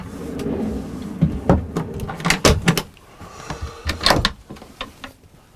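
Below deck on a Rustler 42 sailboat, a wooden bin locker is opened and handled, giving a series of close clunks, knocks and rattles of varying strength with quieter gaps and no talking.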